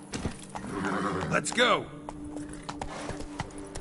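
Roach, a horse in The Witcher 3, neighs loudly and gallops with clip-clopping hooves, the whinny rising and falling near the middle while someone speaks briefly over it.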